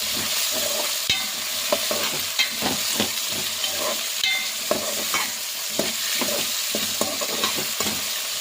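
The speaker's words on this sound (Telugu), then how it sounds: "ఒకసారి కూరగాయలన్నీ చక్కగా కలుపుకుందాం." Vegetables including beans and curry leaves for a veg biryani fry in a pan, a loud, steady sizzle broken by frequent rhythmic scrapes and taps of a spoon stirring, close by with no talking.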